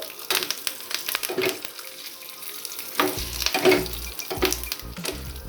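Close, lively crackling of curry leaves and lentils spitting in hot oil as a tempering for lemon rice, punctuated by stirring scrapes and a few louder bursts of sizzle.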